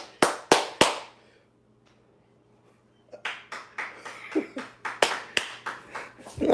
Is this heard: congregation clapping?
yes